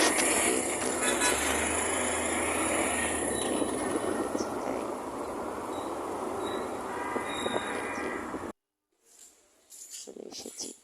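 A train at Kamalapur railway station in Dhaka, heard as a loud, steady rumble with rail noise and faint high squeals for most of the clip, cutting to near silence before a few quieter sounds return.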